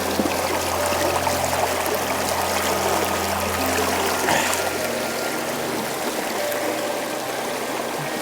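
A mountain stream in the Cairngorms of Scotland rushes and babbles steadily at close range while water is being collected, a continuous, even wash of flowing water with no voices.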